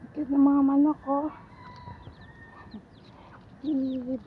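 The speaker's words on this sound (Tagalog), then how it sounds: "Cute ng mga manok, oh." Chickens in a Singapore park give a few clucking, crowing-like calls in two short bursts, close and fairly loud, with quiet open-air background between them.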